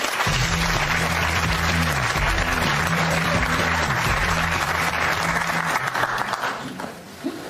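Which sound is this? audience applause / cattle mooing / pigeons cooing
audience applause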